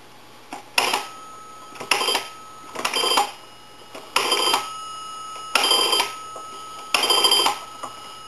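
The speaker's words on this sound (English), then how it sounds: "And now we want to dial our numbers." An A&E 3-slot payphone has numbers dialed on it: six sharp tone bursts, each under half a second long, follow one another at a steady pace with quiet gaps between, close and clear.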